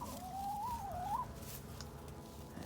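Chickens pecking at cabbage in a coop, with a single quavering bird call near the start and faint clucks and scratching behind it, quiet and close.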